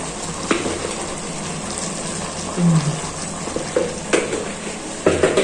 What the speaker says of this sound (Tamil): போட்டு நல்லா கிண்டி விடுங்க